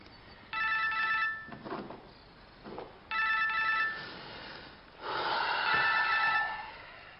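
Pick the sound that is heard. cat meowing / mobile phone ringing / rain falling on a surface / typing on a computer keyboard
mobile phone ringing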